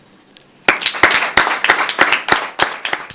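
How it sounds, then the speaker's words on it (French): After a brief quiet moment, a small crowd at a donation handover ceremony breaks into clapping, distinct claps in quick succession at close range for about two and a half seconds. "j'aimerais applaudir toutes ces personnes qui ont permis ce matin que nous soyons rassemblés"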